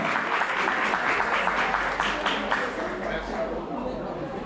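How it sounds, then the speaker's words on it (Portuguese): Audience applause closing a carnival panel discussion on Carnaval Capixaba, a dense steady patter of many hands that tapers slightly near the end, with faint voices mixed in. "Mas uma salva de palmas para essa mesa linda."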